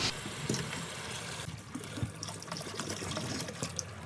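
Yakhni stock is poured into a pot of fried beef and spices for beef pulao, a steady faint liquid splashing and trickling stream under quiet kitchen background without talk.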